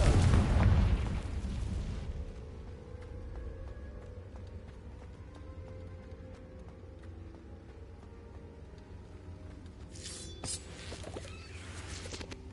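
A Confringo explosive spell blast in Hogwarts Legacy, a loud booming burst at the start that decays into a low rumbling tail, followed by quieter magical shimmer and ambient game sounds.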